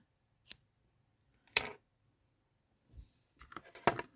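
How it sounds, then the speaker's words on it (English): A few close, quiet snips of scissors trimming yarn on a crocheted flower, spaced apart, then a cluster of faint cutting clicks near the end. "And then I take my scissors and I just trim it."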